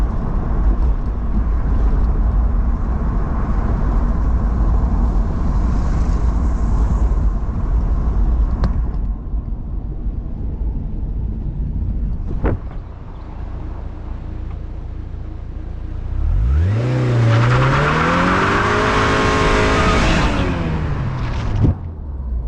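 A Porsche's engine roars loudly and steadily for a long stretch, then a revving climb and fall in pitch as it accelerates hard, with road and wind noise.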